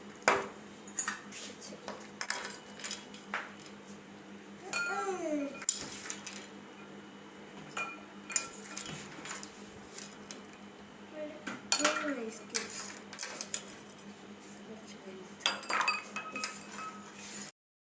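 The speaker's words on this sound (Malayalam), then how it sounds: "ഐസ് ക്യൂബ് ഇടാം ഗൈസ്." Ice cubes drop into a glass of homemade hibiscus squash, giving a series of sharp, close glassy clinks and knocks at irregular intervals, with faint background sounds between them.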